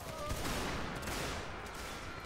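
Musket fire in the Civil War battle game Mount & Blade: North & South, a dense crackle of shots and booming volleys filling the whole stretch, loud and continuous.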